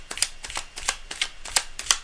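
A deck of tarot cards is riffled and shuffled up close, making a steady run of about six crisp, papery flicks at an even rhythm, heard alone.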